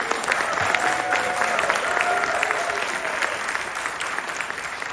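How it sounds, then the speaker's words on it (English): Audience at an Indian American community conference breaks into applause, a dense steady wash of many hands clapping that fades slightly toward the end. "Can you give a big round of applause to Kandarao"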